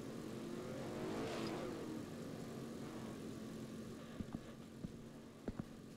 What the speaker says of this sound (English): I swear I just heard another car go.